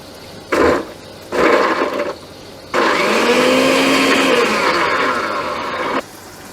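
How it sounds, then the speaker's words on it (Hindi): A kitchen blender grinds a whole head of garlic, two pieces of ginger and a green chili with water, two short pulses followed by a long steady whirring run, loud and close with no talking. "इसको अब हम अच्छे से ग्राइंड कर लेंगे।"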